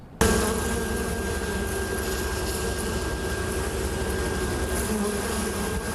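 Honey bees buzz around beehives at an East Texas honey business, a steady close swarm drone that holds evenly for the whole stretch with no talk.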